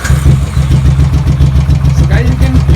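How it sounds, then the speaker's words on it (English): A Royal Enfield Continental GT single-cylinder motorcycle idles close and loud after a service, its rapid, even thumping pulses steady throughout, with a voice talking briefly. "Let me start this bike to show at what RPM I have done the tuning, and especially for idling."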